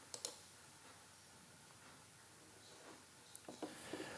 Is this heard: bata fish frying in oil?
no